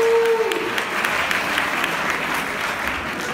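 A church congregation breaks into sustained applause and cheering, a dense steady clatter of many hands filling the hall for several seconds.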